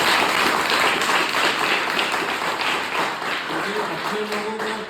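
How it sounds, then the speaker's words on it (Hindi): Audience applause from a seated crowd, a steady dense wash of clapping at moderate level that gradually softens, with faint voices emerging near the end. "आप सबके लिए जोरदार ताली।"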